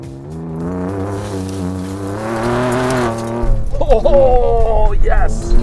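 A Ford Ranger Raptor with a Ford Performance tune, in 4-high off-road mode with the rear diff locked, revs hard through deep snow; a loud, steady engine drone rises, then rough, surging revving takes over near the end.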